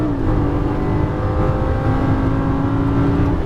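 A Lamborghini Gallardo sports car drives in Las Vegas, its engine a loud, steady, close growl that holds a constant drone throughout with a faint rise in pitch.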